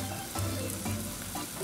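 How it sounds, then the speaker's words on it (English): Steady, crackling sizzle of chicken fried rice frying on a hot Blackstone 22-inch griddle over high heat, with occasional scraping stirs; no voices. "You can see the sizzle, turned up the heat to high"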